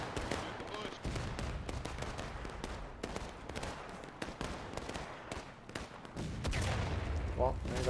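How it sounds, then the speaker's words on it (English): Dense gunfire and artillery in a Civil War battle game, a constant crackle of volleys with sharp rifle cracks and deep booming blasts, loud and continuous with a voice talking over it. "Well, there's artillery."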